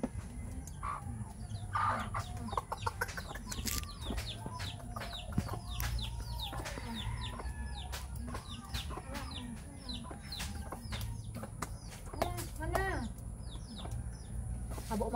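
Chickens cluck repeatedly close by, many short overlapping calls over a steady low background hum.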